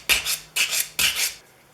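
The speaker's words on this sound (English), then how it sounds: "I'm going to do the edges with a sanding block with 150 grit paper" Three rhythmic rasping strokes of a 150 grit sanding block along the steel edge of a Stanley No. 60 low angle block plane iron, close and crisp, each stroke a short scratchy burst, then quiet.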